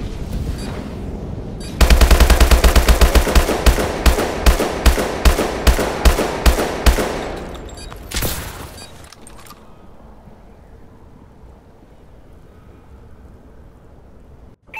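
Rapid gunfire in a Call of Duty: Advanced Warfare multiplayer Domination match, a loud sustained automatic burst of evenly spaced shots lasting several seconds, then a few scattered shots and a quieter stretch of background game noise.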